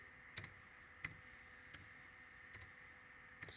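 Scattered clicks from a computer keyboard, a handful of separate keystrokes spaced irregularly over a steady low hum, quiet and close.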